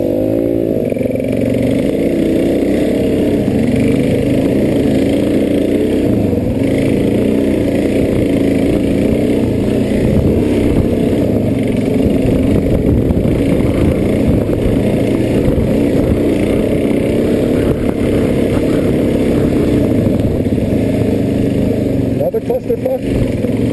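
A small Honda XR dirt bike rides through on an outdoor trail event, its engine droning steadily under a constant loud background roar and wind, with people talking nearby.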